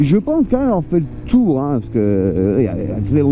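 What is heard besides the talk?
No everyday noise stands out behind the speech.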